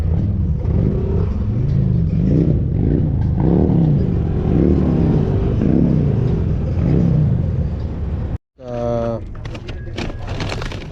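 A 2023 Yamaha Zuma 125cc scooter rides through rush-hour traffic, lane splitting between cars. Its engine drones steadily and loudly with rising and falling pitch and wind rumble, cut by a brief dropout near the end.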